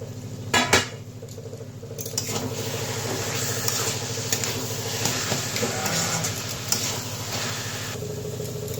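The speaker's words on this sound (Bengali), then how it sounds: "আবার ঢাকনাটা উঠিয়ে দিই।" A lid is lifted off a cooking pot of taro leaves (kochu shak) with bean seeds: a couple of sharp metallic clinks near the start, then a steady low background hum with faint clatter.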